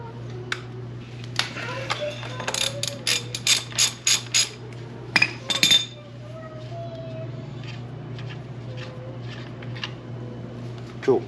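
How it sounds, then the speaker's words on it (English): A 32mm socket on a ratchet works loose the axle hex nut of a 2022 Husqvarna FC350 dirt bike. Rapid clicking bursts of the ratchet sound up close over a steady low hum, with a voice talking in places. "you need a 32mm socket to take off the hex on your axle"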